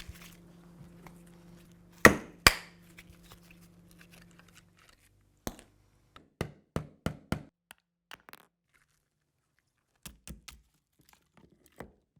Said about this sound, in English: I'll start by removing the backing plates and driving out the clamping bolts.